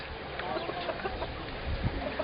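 Chickens cluck softly in short, scattered calls over a quiet background, fairly close.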